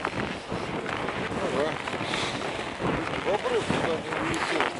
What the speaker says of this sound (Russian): Ну хорошо, хоть ветер в спину был